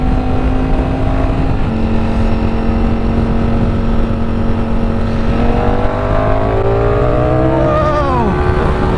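A Ducati Streetfighter V4S motorcycle accelerating hard on an open road, a loud continuous engine roar with rising pitch sweeps through the gears under heavy wind noise.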